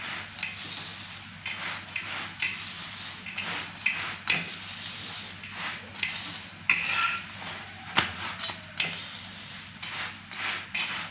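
A radish-stuffed paratha crisping on a hot pan, a moderate sizzle under repeated spatula taps and scrapes as it is pressed and turned, close but fairly quiet.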